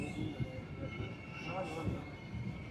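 Silchar Agartala Express train pulling into Baramgram junction, a steady low rumble of rolling carriages with faint rail noise throughout, some quiet voices in the background.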